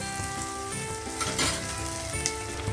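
Chopped tomato and browned onions frying and being stirred in a kadai for a prawn curry, a steady oily sizzle with soft scraping strokes and a faint background tone, no talking.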